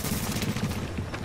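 A grenade goes off in the shooter game The Division amid a dense, continuous barrage of gunfire and booms, loud and sustained throughout with heavy low-end rumble.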